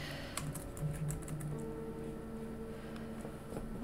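Someone types on a computer keyboard nearby, quiet clicking keystrokes in short irregular bursts over a faint background hum.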